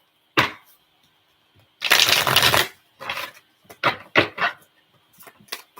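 Tarot cards are shuffled close by, with a longer riffling burst and several short snapping and slapping card sounds separated by quiet gaps.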